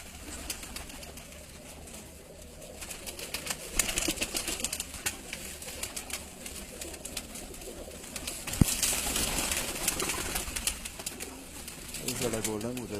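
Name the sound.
golden pigeon cooing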